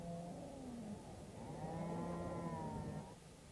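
Cattle moo at the Royal Highland Show, where dairy cows and beef cattle are shown: two long, low lowing calls, the second fuller and sustained, close by, with faint background noise and no talk.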